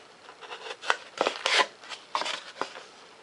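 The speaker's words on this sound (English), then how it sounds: "Come in here with an X-Acto knife. Take and trim this piece out." A hand-held X-Acto knife trims a foam thrust tube for a 70mm EDF fan, giving a series of short, soft scraping and slicing strokes in uneven bursts, close and fairly quiet.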